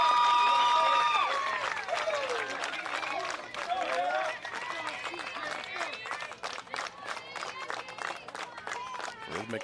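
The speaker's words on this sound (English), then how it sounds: "Rhythmic clapping from the Grand Valley people" Rhythmic clapping from Grand Valley fans in the stands at an NCAA Midwest Regional softball game, a steady crowd beat running throughout under a commentator's talk and cheering.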